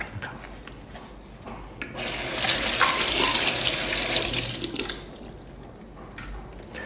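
Tap water runs steadily for several seconds while a Hurom H100 slow juicer part is rinsed in a sink, a broad close hiss that swells in the middle and then eases off.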